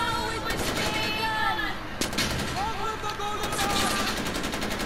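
Gunfire in the video game Far Cry 4, with rapid, repeated bursts of shots running throughout under people talking.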